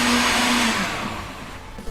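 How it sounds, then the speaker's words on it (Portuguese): A kitchen blender runs loud and close, a steady whirring roar from the motor that holds throughout and eases slightly toward the end, with no talk over it. "eu vou desligar o liquidificador"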